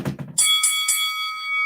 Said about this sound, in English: Mr. Joey, go ahead and ring that bell.